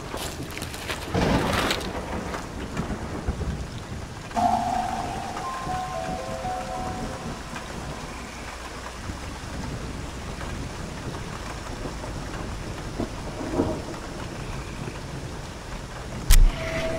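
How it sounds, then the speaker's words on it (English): A thunderstorm with steady rain hisses through the whole stretch in the video game 9 Clues 2: The Ward, with a couple of muffled thunder swells early on and a sharp thump near the end, no talking. "Hope we make it indoors before the storm hits."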